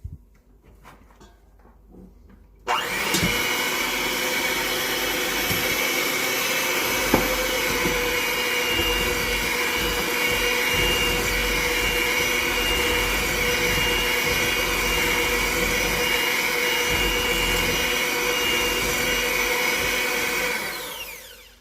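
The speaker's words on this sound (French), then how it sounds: "Je vais l'ajouter par à-coup, par petite quantité, tout en fouettant, mixant avec le batteur électrique." An electric hand mixer whisks melted butter into cake batter, starting abruptly after a quiet moment and holding a loud, steady whirring drone for about twenty seconds before stopping.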